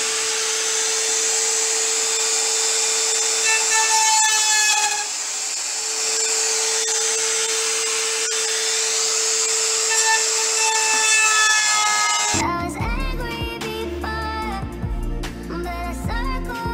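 A small wood router bit cuts through wood with a steady high whine, close and loud for about twelve seconds, then the pitch shifts into a rougher, broken grinding as the cut ends.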